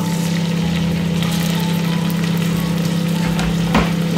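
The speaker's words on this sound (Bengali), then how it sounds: "ভালো মতো পেঁয়াজটাকে ভেজে নিতে হবে" Chopped onion fries in oil, a steady close crackling sizzle over a low constant hum, with a faint knock near the end and no speech.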